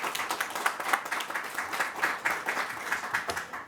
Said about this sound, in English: Let's give Kim Minkle a round of applause